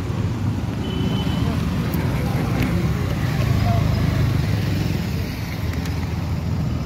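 A car arrives on a road, its engine a steady low rumble that swells slightly toward the middle of the clip amid outdoor traffic noise, with people talking over it.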